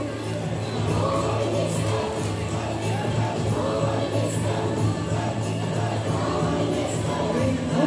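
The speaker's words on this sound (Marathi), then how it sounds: "जोरदार टाळ्या अडकर वहिनींसाठी" Loud, sustained applause from an audience at a Paithani saree game festival for women, prize announcements for the 2024 Utsav Anandacha event; a dense, steady roar of clapping runs throughout with crowd murmur and background music underneath.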